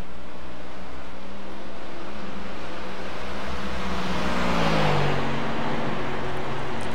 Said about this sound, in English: as John D. Berry rounds the final turn, we'll get the green flag and we're racing